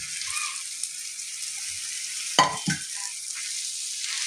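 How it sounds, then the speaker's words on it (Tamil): Boiled goat booti pieces frying in an onion and tomato masala, a steady bright hiss of oil with a couple of loud spoon scrapes through the pan midway, no one speaking. "இந்த வெங்காயம் தக்காளி மசாலாவில் நல்லா கிளறி விடுங்க."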